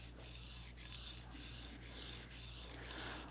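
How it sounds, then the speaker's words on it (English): A plane iron rubs back and forth on a James Barry diamond sharpening stone, a steady close gritty scraping in rhythmic strokes with no talk. "We're just going to really rub that iron around"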